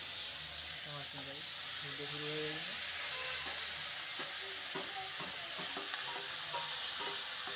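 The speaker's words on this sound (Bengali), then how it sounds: "পাঁপড় ভাজা চলছে।" Steady sizzling of papad frying in hot oil, a constant crackling hiss with people talking over it now and then.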